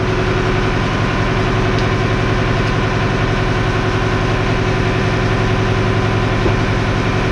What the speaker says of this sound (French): le tracteur est accéléré à 1300 tours